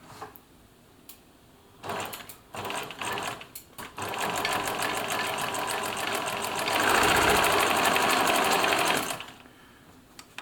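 Short bursts of a Bernina Nova 900 electronic sewing machine stitching a piece of cotton build into a steady, loud run that grows louder, then stops abruptly.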